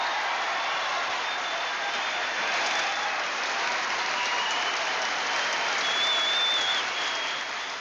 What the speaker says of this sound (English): The applause is all the more rapturous now